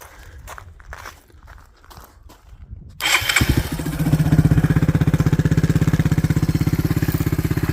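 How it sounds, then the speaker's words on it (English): A Suzuki DR200 motorcycle with stock exhaust starts after a few quiet seconds and settles into a steady, throbbing idle, loud and close. "let's get a listen to the stock exhaust"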